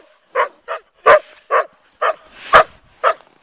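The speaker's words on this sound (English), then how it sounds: "You're a happy puppy, huh?" A happy puppy barks in a series of seven short, high yips at a steady rhythm, close and loud, with faint whimpering between them and no talk.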